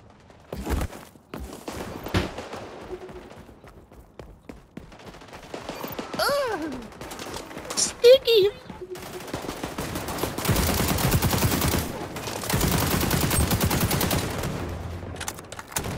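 Gunfire in the shooter game XDefiant: scattered shots early, then dense, loud sustained automatic bursts toward the end, mixed with footsteps, thuds and occasional voices.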